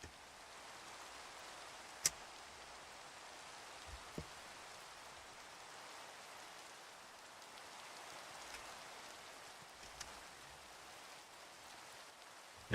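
Steady, faint rain falling in the Minecraft video game, a soft even hiss through the whole stretch with a few small isolated clicks and no voice.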